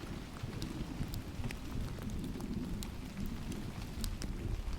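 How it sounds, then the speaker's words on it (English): Rain drums steadily on a roof in a faint, even patter with scattered sharper drips, while low rumbling underneath hints at distant thunder. "combined with the steady drum of rain on the roof and the occasional distant murmur of thunder"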